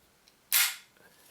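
A single crisp metallic snap as the slide of an all-metal Armorer Works Deadpool 1911 pistol is released, close and sharp, then fading quickly in a quiet room.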